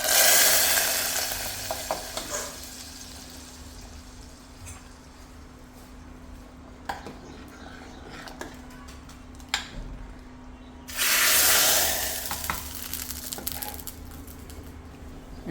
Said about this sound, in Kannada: ಇದಕ್ಕೆ ಒಗ್ಗರಣೆ ಹಾಕ್ಕೊಳ್ಳೋಣ